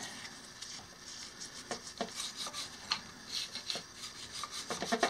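An old toothbrush scrubbing mineral buildup off the lower unit of a Honda 8hp outboard motor, short uneven rasping strokes close by, faint and alone.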